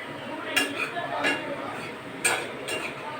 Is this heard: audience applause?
no